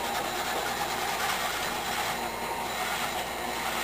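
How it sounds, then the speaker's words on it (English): An onion fed through a powered food grinder for meatloaf, a loud, dense, continuous mechanical whirring and grinding with a rapid rattling texture, close and unbroken throughout. "We'll feed this onion on into the food grinder here"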